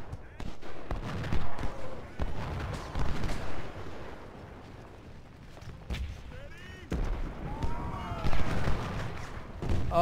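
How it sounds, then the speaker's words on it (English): Cannon and rifle fire in the Civil War strategy game Ultimate General: Civil War, with repeated booming volleys and crackling shots at varying distances as someone talks over the battle. "Oh, their gun is shooting at him."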